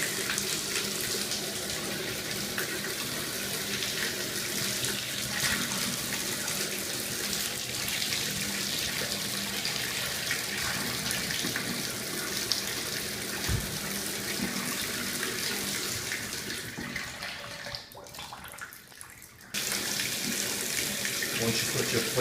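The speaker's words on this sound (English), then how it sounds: "Turn the water back on." Water runs steadily from a shower faucet after a cartridge replacement, with the faceplate removed, a continuous close hiss with a short drop near the end before the flow resumes.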